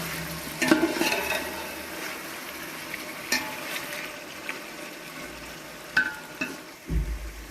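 Chicken and tomatoes fry in a pan with a low, steady sizzle, broken by a few sharp stirring clunks and scrapes at close range.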